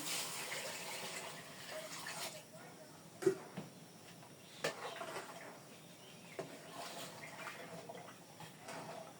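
Water is poured into a cooking pot of biryani, a faint, soft, steady splashing with a few small knocks scattered through it.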